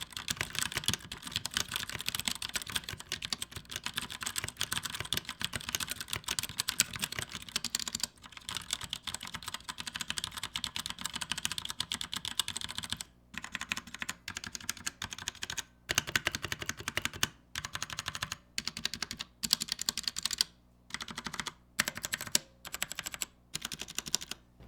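Quick, steady typing on a Royal Kludge RK71 70% wireless mechanical keyboard with TTCK brown switches, close and crisp, with runs of clacking keystrokes that break into shorter bursts and pauses toward the end.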